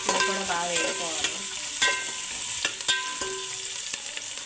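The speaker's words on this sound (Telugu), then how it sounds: "ఇదిగోండి ఉల్లిపాయలు వేగాయి కదా, ఇందులోనే బంగాళదుంప వేసేద్దాం." Onions and potato pieces sizzle steadily in a pan while being cooked for vegetable biryani, with repeated stirring scrapes and clinks of a spoon against the pan.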